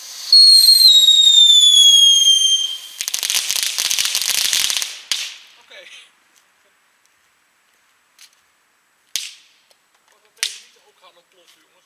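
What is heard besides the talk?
disco fountain firework erupting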